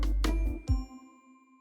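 A subscribe-bell ding sound effect: a few bright chiming hits in quick succession, the last one ringing out with a clear sustained tone that fades away, alone with no talking.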